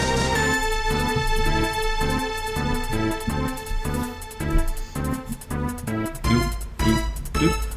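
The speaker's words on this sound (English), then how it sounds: "it's meant to be Super Nintendo style music" Retro chiptune-style video game music in the vein of the Super Nintendo plays alone, with a steady sampled beat, bass line and bright layered melody at a constant loud level.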